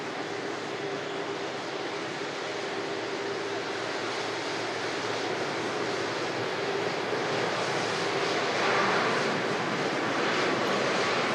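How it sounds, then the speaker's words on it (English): An Air Transat airliner arriving from Toronto touches down, its engine noise a steady, broad rumble heard from a distance, swelling slightly toward the end with no talking. "Transat arriving in from Toronto"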